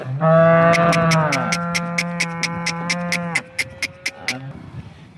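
A cow in Gir Somnath lets out a long, loud moo that fades off, followed by a few soft thumps and rustles.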